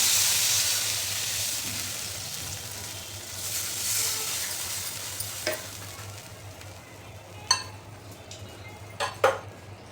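A cup of water is poured into a sizzling pan of fried chilli paste with coriander for patvadi, giving a steady loud hiss of steam that slowly fades, followed near the end by a few sharp metallic clinks.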